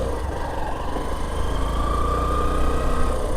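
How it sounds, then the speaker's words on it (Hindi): A Hero iSmart BS6 motorcycle's small engine runs with a steady, even hum and buzz throughout, close by and without speech. "तो बाइक स्टार्ट की,"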